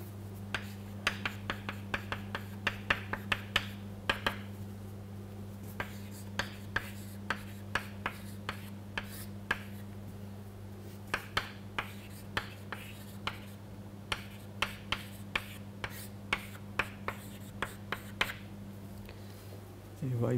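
Marker or chalk writing on a board during a lecture on first-order EPR spectra, heard as a long run of sharp, closely spaced taps and scratches over a steady low hum, with quiet moments between strokes.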